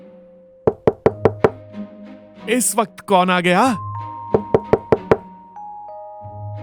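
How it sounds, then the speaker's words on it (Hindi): Loud knocking on a door comes in two quick bursts of four or five sharp raps, separated by a speaking voice, over a faint steady hum. "दरवाजे पर जोरदार दस्तक हुई।"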